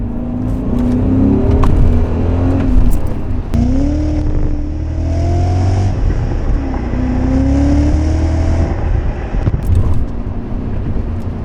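A 2003 BMW E39 M5 engine revs and pulls hard through rising gear changes, loud and close, with a steady drone of road and wind noise underneath.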